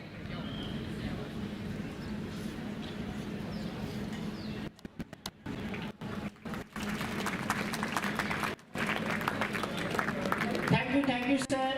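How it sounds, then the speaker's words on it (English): Students at an international seminar applaud, a sustained round of clapping that briefly cuts out in places, with voices talking over it. "I request all the students to applaud for Abid sir"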